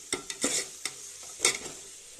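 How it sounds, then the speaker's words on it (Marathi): Chili powder and chili paste being stirred and fried in a pan, giving soft sizzling with a few scraping, clinking strokes of a spoon, close and fairly quiet. "मला चांगलं परतून घ्यायचं मिरची पावडर"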